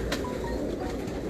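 Meerut gola pigeons cooing at a pigeon-keeping gathering, a soft low coo standing out over steady background noise, with a couple of faint chirps and no talking.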